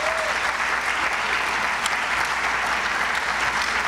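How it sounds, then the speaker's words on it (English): Audience applause for the staff at the Boone Area Chamber of Commerce annual membership meeting, a steady, dense round of clapping filling the hall without a break. "If you can give them one more round of applause."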